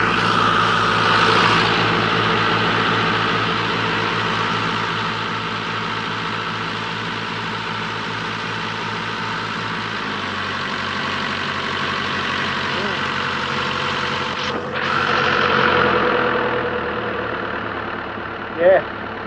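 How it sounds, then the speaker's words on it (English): A boat's starboard engine idles with a steady, low rumble, with a brief knock or clatter near the end and some background movement noise. "that's your starboard engine"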